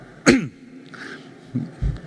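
A sharp cough followed by two short throat-clearing grunts, close to the microphone, with no talking.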